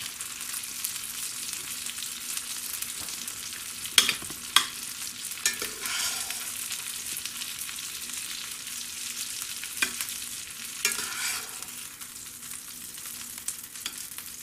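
Pork chops frying in a skillet over medium heat: a constant bright sizzle with occasional louder spits and brief scraping stirs, close and unaccompanied by speech.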